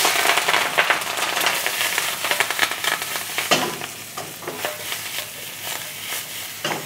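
Tongseng being stir-fried in a wok over a high flame gives steady loud sizzling and crackling, with irregular scraping and clattering bursts as the food is tossed.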